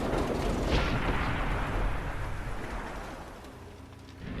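Tank cannon fire in World of Tanks, a heavy boom with a dense low rumble at the start that fades into a long, steady reverberant tail with no talk.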